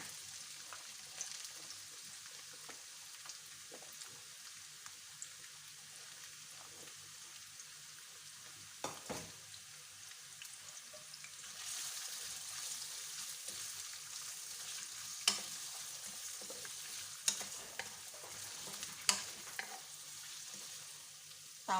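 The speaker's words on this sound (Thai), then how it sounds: "ต้องผัดแครอทก่อนนะคะ" Carrots stir-fried in a pan for yellow noodles, a soft continuous sizzle with scattered scraping and stirring clicks, growing busier and louder partway through, with no talk.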